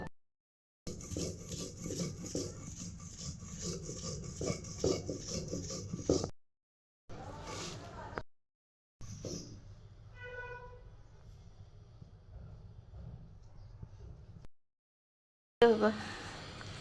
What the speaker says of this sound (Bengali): মাছের মাথাগুলো ভালো করে বেটে নেব